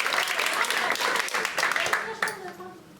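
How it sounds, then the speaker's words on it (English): Audience at a New York comedy show claps after the host calls for applause, a dense burst of clapping with some talk and whoops mixed in, fading toward the end. "Okay, round of applause"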